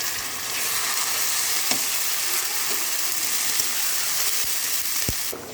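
Two spoons of garlic paste frying in hot oil in a pan for coral fish, a dense, even sizzling hiss throughout, close and loud, with a couple of faint knocks and no talk.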